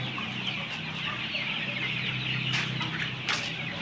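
Young chicks cluck and cheep softly at a farm, small overlapping calls over a steady background hum, with a couple of brief sharper noises and no talking.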